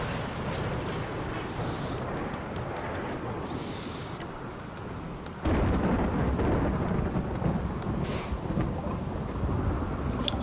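Steady rain and rumbling thunder in the video game RimWorld, a continuous wash of rainfall under deep rolling thunder that swells louder midway and persists throughout, with no voices.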